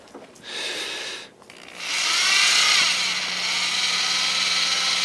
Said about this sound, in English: the advantage of the drill and the nut driver is you've got to put about 20 of these things in your shoes